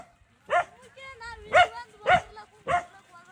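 A village dog barks four times in a sharp, evenly spaced series at moderate distance, with quiet gaps between barks.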